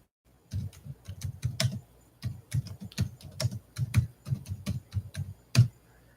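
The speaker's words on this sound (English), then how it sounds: "Let me try typing in something." Fingers type on a computer keyboard in quick clustered bursts of clicks separated by short pauses, close and clear with no talking.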